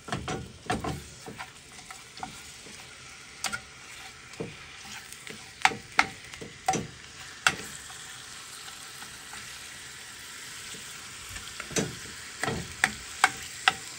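Crumbled turkey sausage sizzles steadily in a frying pan while a spatula breaks it apart, sharp scraping taps and clicks recurring irregularly over the constant crackle.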